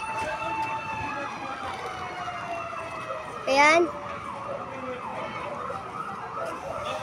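A fire truck siren wails steadily during a fire in Baseco Compound, Tondo, Manila, its rising and falling tone sounding from a moderate distance over street noise, with a short loud horn burst midway and a brief spoken word.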